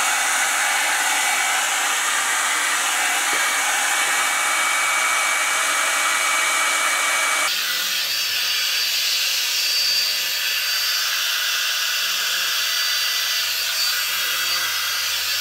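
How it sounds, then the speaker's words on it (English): Revlon One Step Dryer and Volumiser blow-drying hair, a steady loud whooshing hum that shifts to a lower, different setting or angle partway through, running continuously without talk. "you can just use this as a hair dryer and kind of like brush it through your hair"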